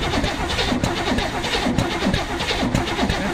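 A car engine cranks and catches after being fueled in a garage, the loud mid-range rumble pulsing rhythmically as it sputters and runs rough, close by with no talk over it.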